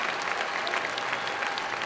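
Crowd applause fills an NC State Wolfpack college basketball arena for a player, a steady dense wash of clapping with no talk over it.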